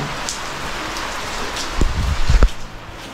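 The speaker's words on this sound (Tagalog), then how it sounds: "Ayan, ulan ulit." Rain falls steadily at a beach hotel, a constant hiss of drops with a few louder splashes and thumps near the end, and no voices.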